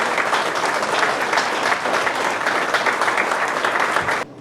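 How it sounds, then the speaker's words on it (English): A close, loud round of audience applause at a flood benefit event, dense clapping holding steady for about four seconds before cutting off abruptly. "if we could give Carrie a big round of applause for her"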